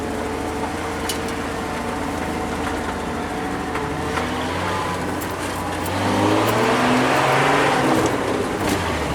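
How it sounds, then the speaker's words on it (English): A Ford F250 pickup with open headers and a straight-pipe exhaust idles with a steady, deep rumble, then revs up noticeably louder about two-thirds of the way through, heard close without talk. "I'm surprised for being open headers, like just straight pipe, that it sounds this quiet."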